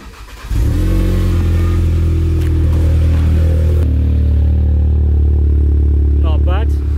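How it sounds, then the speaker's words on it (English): A VW Golf GTI fitted with a loud aftermarket exhaust fires up from cold outdoors, settling into a deep, booming high idle that drones loud and steady throughout. "I'll give you a little cold start again now, just so you can hear it out here"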